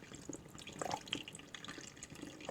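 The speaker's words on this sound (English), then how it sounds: "We know when the water is coming out the bottom clear." Hot water runs through tie-dyed fabric, giving a faint, close trickle with small drips and splashes throughout, quiet and without voices.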